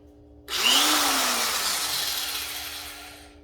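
An electric power sheet metal shear switches on and runs alone, a loud close whine that spins up abruptly and then holds a steady, slowly easing buzz.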